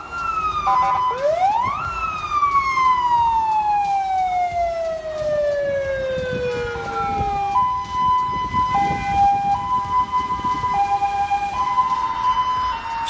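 Ambulance sirens wail through traffic in China, a loud sweeping siren rising and falling and then switching to a rapid alternating two-tone pattern, with road traffic rumbling underneath and no talking.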